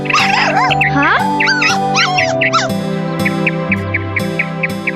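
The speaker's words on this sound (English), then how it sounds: "I think you should help the poor dog." Cartoon dog whimpering and yipping in a series of short, high, wavering cries over a backdrop of music, loud and close.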